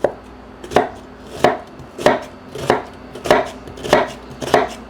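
A knife slices through vegetables on a cutting board for marinara sauce, seven evenly spaced, crisp chops striking the board in a steady rhythm, close and alone.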